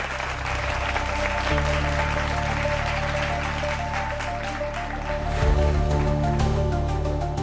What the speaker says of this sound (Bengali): জোরদার হাততালি হয়ে যাক